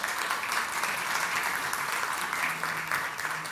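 Steady, dense audience applause greets the first presenter at a National Assembly symposium, a continuous wash of many hands clapping at even loudness from start to finish, with no talking over it.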